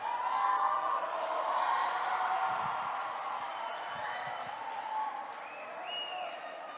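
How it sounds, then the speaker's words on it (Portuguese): A church audience claps and cheers in a large hall, a sustained wash of applause with scattered whoops, moderately loud and continuous throughout. "Uma salva de palmas!"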